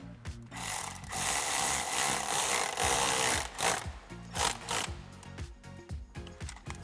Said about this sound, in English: tighten this clamp up